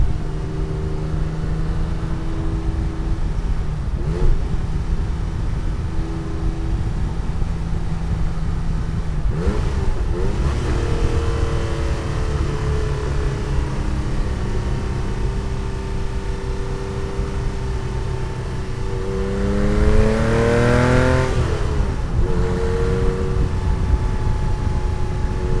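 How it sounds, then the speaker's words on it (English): A 1987 Porsche 911 Carrera 3.2 engine pulls through acceleration from inside the car, a steady low exhaust drone with rising pitch sweeps as it revs, loud and continuous with no talking. "Exhaust note is great. Everything from the acceleration is very smooth."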